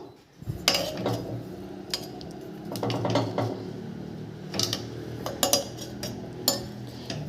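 A metal pressure cooker lid is opened after steaming palmyra sprouts. Close, sharp metallic clinks and clanks come in irregular bursts over a low background, with no one talking.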